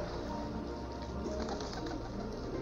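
A flock of pigeons gathers to feed on scattered corn, giving a dense, continuous murmur of cooing and wing rustle that stays at a fairly close, steady level throughout.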